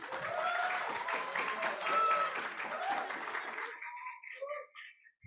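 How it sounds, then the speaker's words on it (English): Applause from a conference audience, with dense, steady clapping for about four seconds before it thins out into a few scattered claps. "Please give a round of applause."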